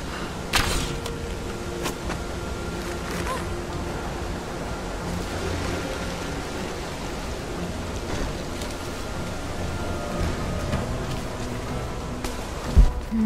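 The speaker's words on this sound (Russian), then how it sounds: "Вода выливается." Water pours out in Rise of the Tomb Raider, a steady rushing wash that runs unbroken from start to finish at moderate loudness, with a brief thump near the end and no talk.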